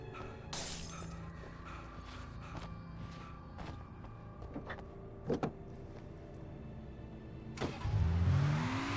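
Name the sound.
car starting and driving in the video game Alan Wake Remastered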